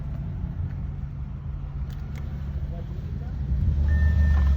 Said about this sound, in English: we got power, the car is running